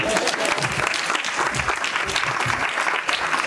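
Audience applause fills a live stage show, dense and steady clapping from a large crowd for the full stretch, loud and continuous with no pause.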